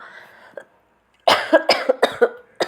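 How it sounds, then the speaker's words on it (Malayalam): A person with a chest cough and breathlessness coughs in a burst of several harsh, close coughs after a brief quiet moment. "നല്ല ചുമയും നല്ല ശ്വാസം മുട്ടലും എല്ലാം ഉണ്ട് എനിക്ക്"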